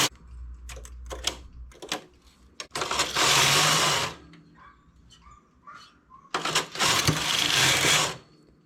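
A domestic knitting machine running a punch card pattern, its carriage rattling and clacking across the bed in two long loud passes, broken up by sharp mechanical clicks and pauses.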